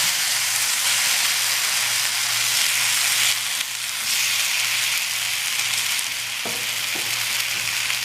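Tandoori chicken sizzles and fries steadily on a tawa over low heat, a continuous close crackling hiss with a faint steady hum underneath and an occasional light clink, with no speech.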